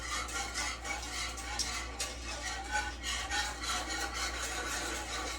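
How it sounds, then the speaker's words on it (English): A whisk scrapes quickly and steadily around a bowl, mixing spices including pepper and cayenne for a four-cheese mac and cheese, a soft, continuous rhythmic rubbing heard up close with no talking. "So just whisk those together."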